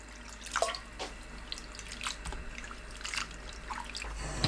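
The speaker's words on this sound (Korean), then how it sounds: "칼국수 면에 물 붓고 가볍게 헹궈내세요." Water is poured over kalguksu noodles to rinse them, giving faint, irregular trickles and drips close by.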